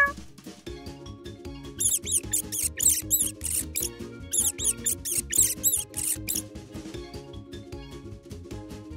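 Cartoon-style mouse squeaks in a children's game of cat and mouse at a playground, a run of high chirpy squeak bursts repeating over a steady music bed.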